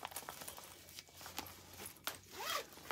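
A zipper on a carry-on travel bag rasps in several short, close pulls, mixed with light rustling and handling of the bag's fabric.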